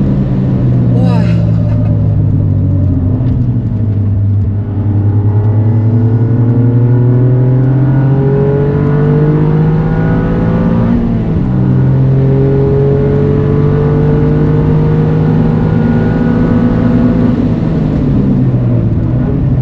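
A Toyota GR Yaris engine revs hard on the Mandalika circuit, its loud interior drone climbing through gears with brief drops at each shift, while a driver talks over it throughout.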